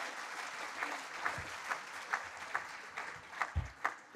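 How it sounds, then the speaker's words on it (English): Audience applause at a university lecture, a steady wash of clapping from a large seated crowd with a few sharper claps and thumps standing out, moderately loud and without talk. "Round of applause for you."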